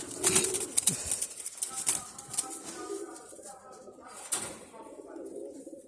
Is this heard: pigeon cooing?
yes